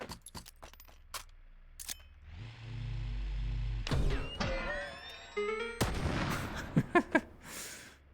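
Explosions and gunfire in the VR shooter H3VR: sharp cracks and bangs scattered throughout, a deep rumbling blast in the middle, then more bursts and clattering debris, fairly close and punchy.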